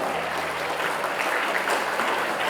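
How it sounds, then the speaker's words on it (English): Parents in a school annual day audience applaud together, a dense and steady wash of clapping at moderate volume with no pauses. "Let's give them a big round of applause, dear parents"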